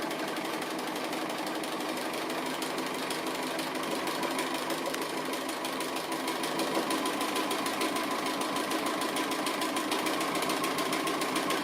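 A sewing machine stitches around an appliqué piece, giving a steady, continuous mechanical whir and rattle that runs unbroken and fairly loud, with no talking.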